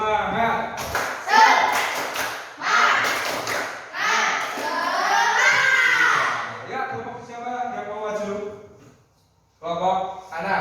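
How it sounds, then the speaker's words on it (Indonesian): Class of children doing a rhythmic spirit clap, tepuk semangat, in a classroom: sharp clap bursts in patterned groups mixed with loud chanting voices, pausing briefly before a final burst. "tepuk semangat."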